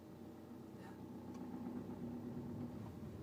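A car engine hums steadily at low revs during a beginner's driving lesson, a constant close drone with faint vibration and no clear revving.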